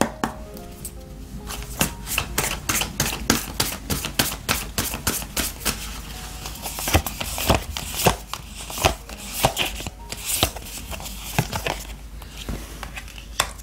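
Oracle cards being riffle-shuffled for a tarot reading, a long run of sharp, rapid snaps and flutters in uneven bursts, close and loud with no talking.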